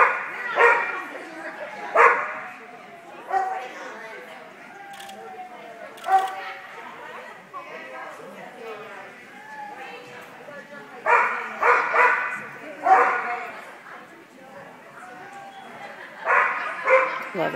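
A dog barks repeatedly in short bursts at an AKC agility trial during an Excellent Jumpers With Weaves run, with people talking close by throughout.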